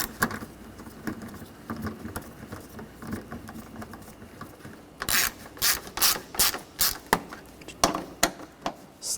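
A ratchet tightens valve cover bolts on a 2013-2019 Ford Escape 2.0L four-cylinder, giving quiet clicking strokes that turn into a run of sharper, louder ratcheting bursts near the end.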